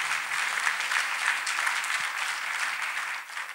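A crowd claps steadily for several seconds, a dense, sustained round of applause that thins slightly near the end.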